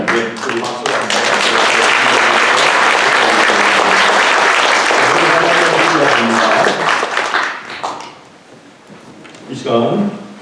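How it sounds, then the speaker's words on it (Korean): Loud congregational applause at a church installation service for a new senior pastor, dense and sustained for about eight seconds, then fading into voices and a short rustle near the end. "우리 박수 한번"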